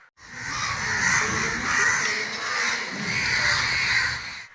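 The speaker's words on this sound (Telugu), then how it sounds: "కావు కావుమని అరుపులతో గోలగోలు చేశాయి" Many crows caw loudly at once in a dense, continuous raucous chorus, harsh overlapping calls filling the whole stretch with no speech.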